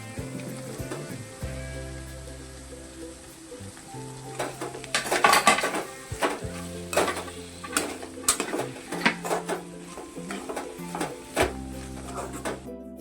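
Tomatoes and onion frying together in a pan for a Malvani prawn masala, giving bursts of sizzling and stirring over a background of steady musical tones.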